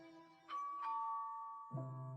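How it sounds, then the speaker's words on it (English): A doorbell at the gate of a wealthy estate gives a clear two-tone ding-dong chime, the notes ringing out and decaying, then a lower second chime begins near the end; quiet, close and with no voices. "I take a deep breath and press the doorbell. It rings 3 times."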